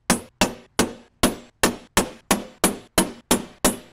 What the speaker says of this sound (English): I'm thinking to make a little punch over here so the drill bit doesn't go all over the place